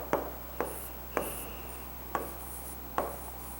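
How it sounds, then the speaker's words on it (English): Answer written by hand during a maths exercise, heard as about five sharp, separate pen strokes scattered at irregular intervals over a quiet room tone. "Let us write the answer."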